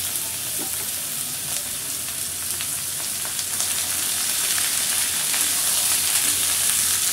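Chopped sweet pumpkin added to a pan with minced garlic, frying with a steady, loud hiss and sizzle that swells slightly toward the end, with light stirring clatter and no voices.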